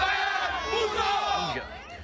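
Crowd at a FIBA Asia Cup qualifier basketball game between Gilas Pilipinas and host Indonesia at Mahaka Square, a loud roar of voices and shouting in an arena, with cheering that rises and then fades near the end.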